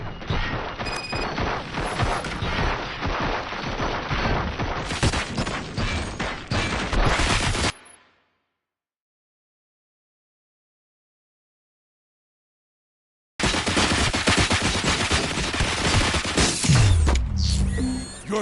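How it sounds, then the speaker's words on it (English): Heavy volleys of gunfire in the RoboCop film, a dense, loud fusillade of rapid shots and crashes that cuts to silence for several seconds before another loud barrage resumes. "Fire at will."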